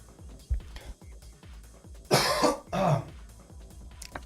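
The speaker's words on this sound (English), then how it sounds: "Second cough of the day." Two loud, harsh coughs from a person, a burst near the middle followed closely by a second, standing out over quieter background noise during a Blitz X Cup match.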